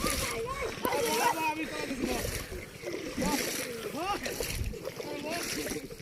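A boat crewed by four people drifts out of control on the water, with steady splashing and sloshing throughout while several voices talk and shout loudly over it.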